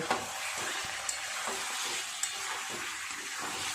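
Chicken kosha sizzles in a pan as it is sautéed and stirred, a steady close frying hiss broken by a few sharp clicks of the spoon against the pan.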